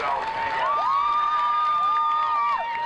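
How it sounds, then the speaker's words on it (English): Crowd at a youth football game applauding and cheering a player, a broad, steady roar of claps and shouts with a long whistle-like tone running over it, loud and sustained throughout. "And a round of applause"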